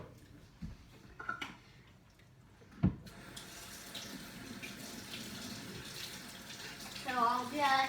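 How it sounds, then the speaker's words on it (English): Water from a kitchen tap runs steadily while hands are washed before baking no-bake cookies, a close continuous splashing flow that starts abruptly after a clunk and continues to the end. "So I'll just wash my hands again, just get it clean."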